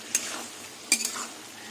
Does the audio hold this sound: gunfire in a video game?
no